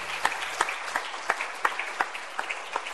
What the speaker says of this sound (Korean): 우리 교회 안수 집사님들 위해서 박수 한번 쳐주세요.